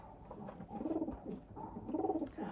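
Young red check pied and mealy check pied pigeons cooing inside a loft, two rolling bursts of close, throaty calls with short pauses between, no voices.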